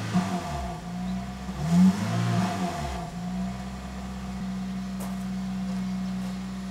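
Toyota AW11 MR2 engine running steadily nearby, a low even hum with a brief swell of revs before settling back to a smooth idle.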